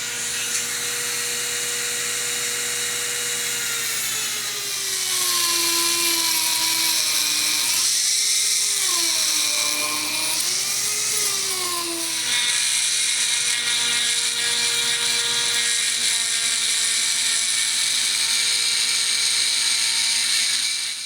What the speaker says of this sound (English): I'm using the tool rest to keep my hand stable too while I make this cut